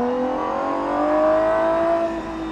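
GMA T.50 supercar engine revving hard while being driven, a steady high-pitched mechanical whine rising in tone, loud and close for the whole stretch.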